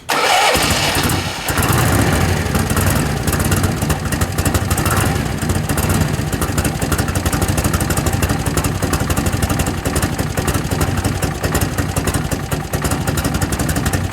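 A 1978 Harley-Davidson FLH motorcycle engine cold-starts on choke, cranking and catching, then settles into a loud, steady chugging idle close by, running continuously with a slightly uneven rhythm.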